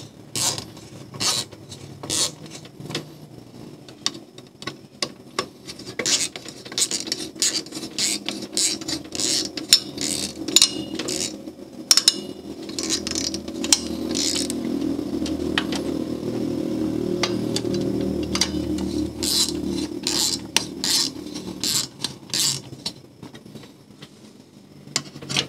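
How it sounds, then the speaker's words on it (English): Screws being tightened while a desktop PC is cleaned and reassembled: a run of small, close ratcheting clicks and scrapes in irregular bursts over a low background hum. "Okay, so just gonna tighten up the screws"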